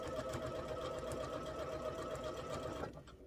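A sewing machine quilts a quilt top to batting and backing, running in a steady fast rhythmic whir for about three seconds before stopping abruptly.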